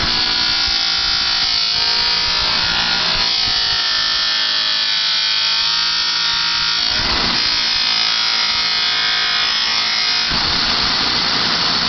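A motor-driven buffing wheel with cutting compound polishes an aluminum motorcycle part. A steady, close, high whine runs throughout, with slight shifts in tone as the part presses against the wheel.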